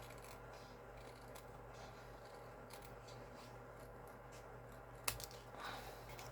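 Scissors cut paper in a craft project, guided along the straight edge of a soft suede piece, a quiet, close series of soft snipping and rustling with one sharper click near the end.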